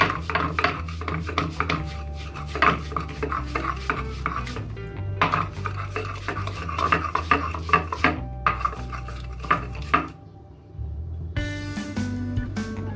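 Garlic and ginger crushed with a stone, a repeated close grinding and knocking of stone against a hard surface in uneven bursts, with brief pauses.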